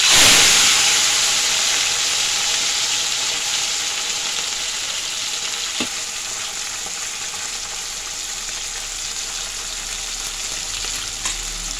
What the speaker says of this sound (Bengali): माछगुलो एरपर भेजे निচ্ছি।